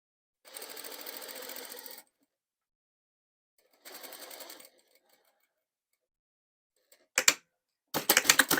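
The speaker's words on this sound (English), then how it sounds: "I'm just going to sew the binding on to the right side of my" A sewing machine stitches binding onto fabric in short separate runs, each a close, rapid buzz lasting a second or two, broken by silent pauses and ending in quick bursts.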